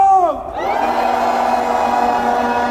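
A large crowd at an outdoor political rally roars and cheers in one sustained, loud swell that starts right after a shouted call and carries on without a break.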